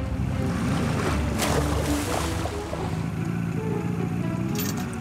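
Ocean waves washing around a boat in a cartoon rescue scene, a steady broadband swash with low rumbling water and a brief louder surge, no talking.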